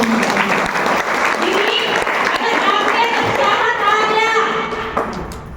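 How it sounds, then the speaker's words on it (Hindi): A large audience at a motivational success-story talk bursts into loud, sustained clapping that holds steady and then tapers off at the end. "एक बार जबरदस्त ताली"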